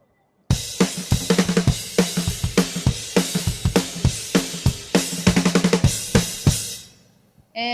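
A drum kit plays a steady, driving rhythm, with punchy kick and snare hits and crashing cymbals repeating loudly for several seconds before fading out.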